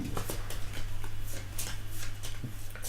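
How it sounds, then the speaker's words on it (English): A deck of cards for the Gloom of Kilforth board game is shuffled close by in quick, rhythmic bursts of riffling that repeat steadily, quiet over a constant low hum. "Andrew, why don't you shuffle these up and deal me 2?"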